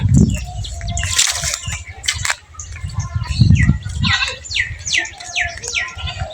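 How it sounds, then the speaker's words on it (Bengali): Pigeons flutter their wings and birds chirp in quick bursts outdoors at a graveyard, with a busy rustling background and distant voices. "কবুতর"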